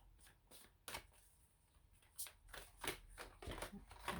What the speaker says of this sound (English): Oops, throwing the cards all over the place here.